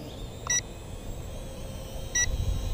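A clone of the DJI Mavic Pro drone gives two short electronic beeps about one and a half seconds apart over steady outdoor wind noise.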